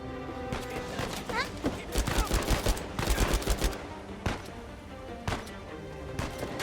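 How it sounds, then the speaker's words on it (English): Rapid gunfire in the video game Uncharted, clusters of sharp shots and bursts, some louder volleys mixed with game sounds and occasional talk. "Who else is shooting?"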